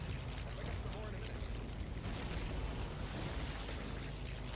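A tank explodes in the real-time strategy game Sudden Strike 3: a dense, roaring blast that holds loud and unbroken for several seconds, with no pause or clear decay.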